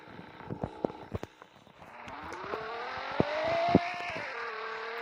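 A McLaren car in a Roblox racing game rises in pitch as it accelerates, with a steady engine drone that climbs and levels off. Sharp clicks and knocks sound over it early on, and no one speaks.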